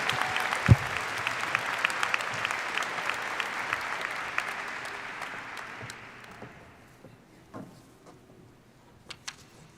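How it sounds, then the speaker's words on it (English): Crowd applause for graduates at a commencement ceremony, dense clapping that holds steady for several seconds, then thins out and fades to a few scattered claps. "Could you join me in one more round of applause for all of our graduates?"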